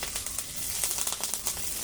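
Native curry leaves crackle in hot oil, a loud, close, continuous sizzle with rapid popping bursts throughout.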